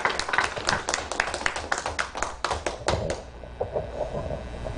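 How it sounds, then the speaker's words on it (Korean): An audience at a humanities lecture in Ansan claps warmly to welcome poet Song Kyung-dong, a dense run of close, crisp handclaps that fades into a few scattered claps. "우리 뜨거운 손뼉으로 우리 송경동 시인을 환영해 주십시오."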